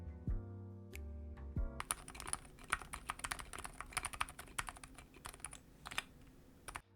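Typing on an Ajazz AC081 Cat's Pad keyboard in white with Kailh silent switches, starting with a few soft taps, then fast continuous muffled keystrokes close up, with no voices.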